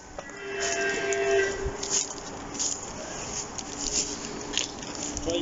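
A train passing on a bend in rural Essex countryside, a steady rumbling wash with faint high squeal tones, heard at moderate distance amid outdoor ambience.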